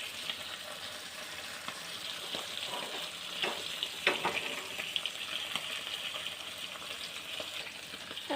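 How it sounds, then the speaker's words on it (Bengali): Cumin seeds sizzle in hot oil in a pressure cooker, a quiet steady frying hiss with a few sharper crackles and pops close by. "প্রেসার কুকারে তেল দিয়ে দিচ্ছি। জিরে সম্বারা দিয়ে দিলাম আমি অল্প একটু।"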